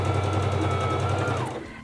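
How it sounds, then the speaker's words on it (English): A SINGER Fashion Mate 3333 sewing machine runs briefly as it stitches fabric, a close, steady mechanical whir with fast rhythmic needle chatter that winds down and stops near the end. "Press down on the foot control"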